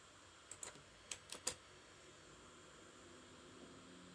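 Keys on a computer keyboard tapped in a short quick burst of about five sharp clicks, ending with a firmer press like the Enter key, then quiet room hiss.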